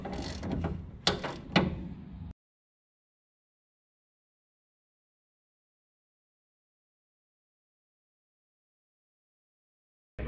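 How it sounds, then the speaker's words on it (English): A ratchet tightens a castle nut on a ball joint of a 1966 Mustang front suspension, producing a short, close burst of clicking and metallic rattling for about two seconds before the sound cuts off to silence. "I can kind of put a little bit of tension on here as I tighten down this castle nut"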